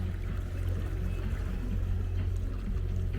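A boat's motor drones steadily while cruising over a dead-flat, windless sea off Cape York, Australia, a constant low rumble with faint water wash, close and unbroken, with no talk.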